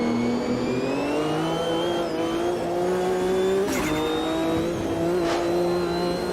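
Race car engines lapping Silverstone in the sim racing game Automobilista 2, including a Porsche 911 and a Corvette, droning steadily and loud with rising and falling pitch as gears shift, plus a couple of brief sharp transients.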